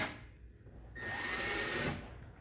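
A power drill whirs for about a second drilling a hole for a fender flare on a 2022 Yamaha RMAX, its motor pitch rising and steadying, then stops, with a low background rumble throughout.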